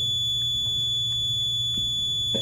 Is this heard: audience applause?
no